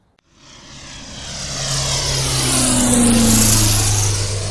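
A training airplane's propeller engine swells from quiet to a loud, steady roar during takeoff, with a droning tone that holds close and alone.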